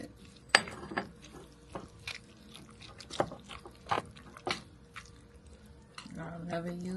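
Homemade pickle relish being stirred into a Southern potato salad, with soft wet squishing and several clinks of a spoon against the bowl in an irregular rhythm, close and fairly quiet.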